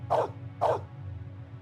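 Two sharp dog barks about half a second apart in the Blade Runner video game, loud and close over a low steady background hum, with no talk.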